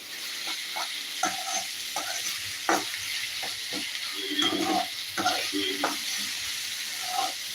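Chicken spring roll filling with chilli is stirred in a hot pan: a spatula scrapes in uneven strokes over a continuous sizzle, with clattering bursts between quieter moments.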